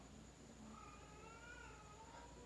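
A cat meows faintly somewhere in a quiet bathroom, giving a thin, drawn-out wavering cry under steady background hiss.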